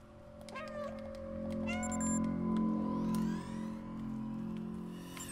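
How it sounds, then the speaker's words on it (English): A cat meows in the video game Stray, repeatedly at a door, the short voiced cries rising and falling over a steady game hum, with a few brief clicks and effects scattered between. "What happens if I meow at the other door?"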